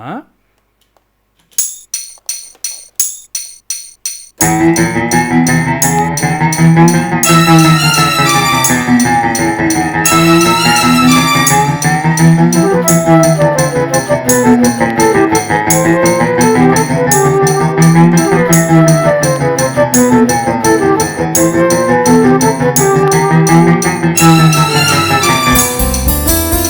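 A few plucked guitar notes give way to a loud, sustained, wavering guitar tone with an eerie, ghostly shimmer.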